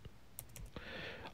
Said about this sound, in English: So this is what you need to type in capital letters.